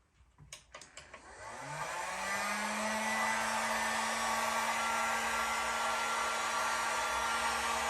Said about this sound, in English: We'll go ahead and turn the heater on, or the heat gun.